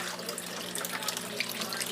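Water runs from a tap in a steady, close hiss and splash, continuous for the whole moment with no talk.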